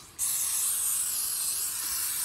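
A steady hiss of aerosol cleaner sprayed onto a BMW G310GS motorcycle chain starts abruptly and continues for about two seconds, close up and fairly loud.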